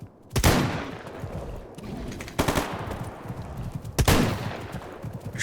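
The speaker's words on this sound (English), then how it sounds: "Oh, he's shooting at them already." Rapid automatic gunfire in a brutal S.T.A.L.K.E.R. mod game rattles on continuously, with three sharp, loud shot bursts standing out over a dense battle din and no talk.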